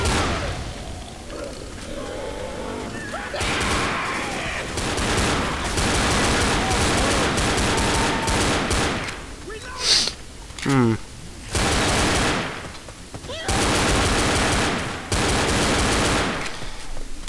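Gunfire in the Left 4 Dead video game, rapid bursts of shots repeating through the clip, loud and close, with brief pauses between volleys and a few sharper metallic clacks.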